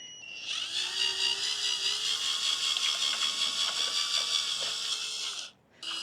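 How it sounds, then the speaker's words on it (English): A power drill spinning a paint mixer whirs at a steady high pitch for several seconds, close and continuous, then cuts out briefly before spinning up again. "I'll put the drill on here"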